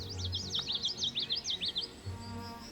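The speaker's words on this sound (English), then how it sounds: "Birds such as veery, ovenbird, and wood thrush can often be heard calling from the understory." Birds such as veery, ovenbird and wood thrush call from the understory of a lush woodland preserve, a rapid series of high warbling notes rising and falling in one clear phrase, fairly close over a quiet background.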